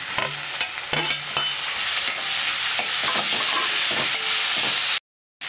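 Tomatoes go into sautéing onions and red chilli for spinach khichdi, setting off a steady loud sizzle with repeated spoon-against-pan scraping and clinks before the sound cuts off abruptly.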